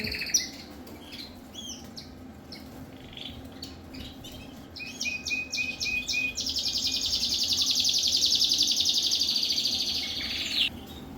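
Many small birds chirp and twitter nearby in an aviary, rapid repeated calls building into a dense, high trilling chorus before ending abruptly.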